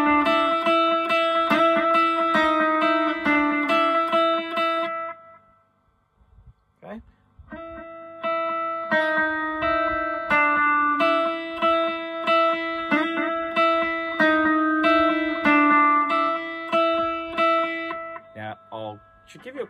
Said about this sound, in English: it sounds really good with the echo too